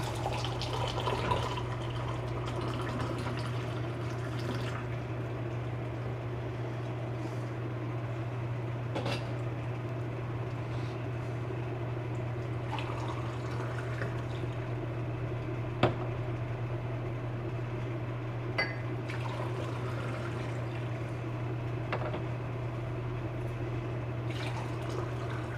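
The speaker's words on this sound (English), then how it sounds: "She's drawing the water," Water is drawn and poured for brewing a fine white tea, a faint trickle with soft splashes and occasional clinks over a steady low hum in a quiet room.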